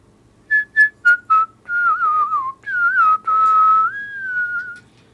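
Someone whistles a melody alone, clear and close: four short staccato notes followed by longer sliding, sustained phrases.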